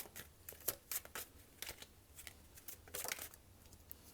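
Tarot cards shuffled and drawn during a reading, giving soft, quiet riffling and slapping bursts in irregular clusters with brief pauses between.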